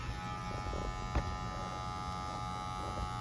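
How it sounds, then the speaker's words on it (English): An electric hair clipper trims a man's beard on the chin and moustache, a steady close buzz with a faint mains-like hum running throughout, one brief louder tap near the middle, no talking. "We're letting the clipper do all the work."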